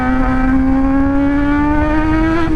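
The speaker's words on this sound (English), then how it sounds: "If you hear my bike, I mean, it's really loud" Motorcycle fitted with a mid-pipe and slip-on exhaust revving, a loud sustained droning engine note that climbs slowly in pitch, then drops slightly at the end, close and alone.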